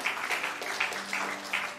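A church congregation claps for God, a soft steady patter of many hands with a faint rhythmic pulse, fairly distant and quiet.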